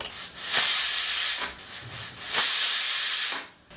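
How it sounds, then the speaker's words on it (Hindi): Pressure cooker on high flame cooking matar pulao, releasing loud bursts of hissing steam in two long spurts with short pauses between, close and alone. "अब कुकर का ढक्कन लगाते हुए हाई फ्लेम पे हम 2 सीटी तक पकाएंगे।"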